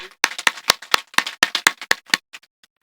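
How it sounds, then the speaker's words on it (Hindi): An audience at a recitation event claps in a steady rhythm, about a dozen sharp, close hand claps that thin out and stop. "एक बार मैं चाहता हूं कि आप लोग उसके लिए तालियां बजाइए।"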